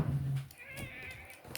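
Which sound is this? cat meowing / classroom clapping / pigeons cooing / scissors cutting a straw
cat meowing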